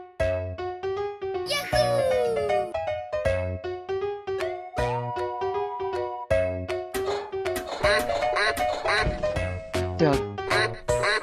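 A cartoonish duck quack sound effect sounds several times over bright, busy game music with chimes, part of an animal-sound guessing game.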